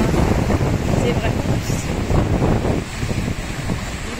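Waves wash and break on the sand of Praia do Barranco beach in a steady roar, heavily mixed with gusting wind buffeting the microphone.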